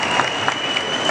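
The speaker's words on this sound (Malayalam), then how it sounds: "ഒരു ഗംഭീര കൈയടി" Audience at a fashion show in a Lulu mall applauding for Kunchacko Boban, dense continuous clapping from a crowd at moderate loudness, with a steady hum running underneath.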